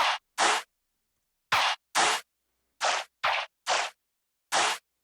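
A vocoder in noise mode turns a Skrillex-style synth line into short, bright bursts of watery, hissing texture. Seven clipped hits are separated by dead silence.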